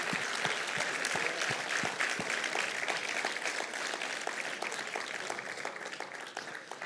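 A church congregation claps together in steady, dense applause lasting several seconds, fairly loud and even throughout, with no talking over it.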